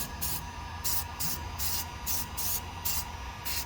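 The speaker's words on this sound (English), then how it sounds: "Then we'll respray it again with some more primer." Short bursts of aerosol primer spray hiss repeatedly onto a car wheel in a steady rhythm, each lasting about half a second, close by over a low background hum.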